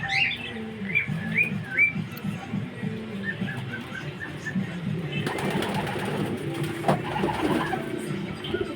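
Pigeons and doves in a pet shop coo and chirp steadily throughout, with repeated nearby calls over a busy indoor background that grows louder and more cluttered partway through.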